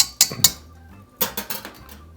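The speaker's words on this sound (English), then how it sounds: "Let's give it a little whisk here. Just to kind of get the two flours mixed in a bit." A metal whisk stirs two flours together in a mixing bowl, giving a few light clinks and taps against the sides in two short bursts, close and fairly quiet.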